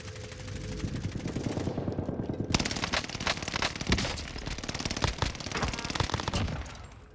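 Rapid automatic gunfire rattles in the game Warzone, loud and continuous bursts of close shots with sharp metallic edges and no talk.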